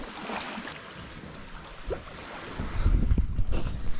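Wind blowing across a sailboat under sail at sea near Horta, a steady rushing buffet on the microphone that grows stronger and gustier in the second half, with no voices.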